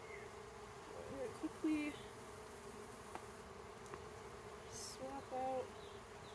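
Honeybees buzz softly and steadily during a 2024 hive installation in Marquette County, Wisconsin, a faint drone throughout with brief louder passes of individual bees near the listener and someone talking quietly over it.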